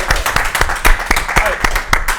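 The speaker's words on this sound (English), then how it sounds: "big major applause" A small group claps in quick, uneven bursts, the applause close and moderately loud, with some voices mixed in.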